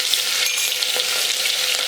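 Fresh ginger, garlic and green chili paste hitting hot oil with carom seeds while chole masala is being made, giving a loud, steady, close-up sizzle with no pauses and no voices.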